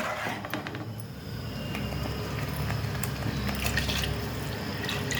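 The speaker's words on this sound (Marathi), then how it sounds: "आता ह्याच्यामध्ये आपण खेकड्याचं पाणी घालूया." Crab stock water is poured into a ground coconut masala for crab curry, a close, continuous liquid pour with light splashing and dripping and no voices.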